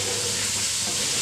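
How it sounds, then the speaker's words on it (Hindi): Mutton karahi with green chillies fries in a pan, a steady close hiss and sizzle with faint stirring that holds evenly throughout. "थोड़ी देर हम इसकी भुनाई करेंगे"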